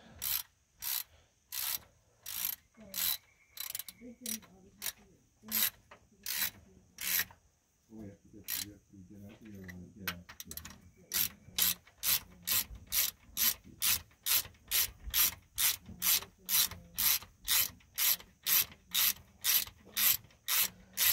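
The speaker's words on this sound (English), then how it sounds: "we're gonna snug up these rod bolts" Ratchet snugging up engine rod bolts on a short block, close rapid clicking strokes in steady runs with brief pauses between them.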